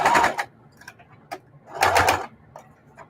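Sewing machine stitching a quilt binding, two short bursts of rapid mechanical whirring separated by quiet pauses and small ticks.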